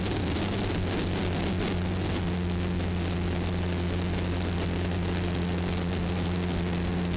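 A Jet Ranger 407 helicopter flies over Key West Harbor during an offshore powerboat race, giving a steady droning rotor and engine hum with a constant low tone and broad hiss throughout.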